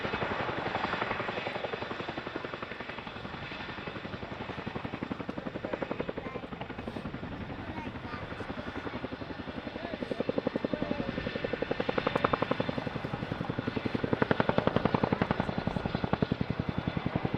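An RAF Boeing Chinook lifts off at an airshow, its twin rotors producing a loud, steady rhythmic chop with a whining turbine over it, swelling somewhat toward the end.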